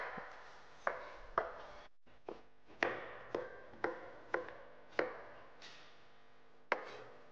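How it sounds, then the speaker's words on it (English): A knife finely cutting cucumber on a board for a red snapper ceviche, about ten crisp separate chops at an uneven pace, close and clear against a quiet background. "Then I've got some cucumber, which I'm just going to cut really fine."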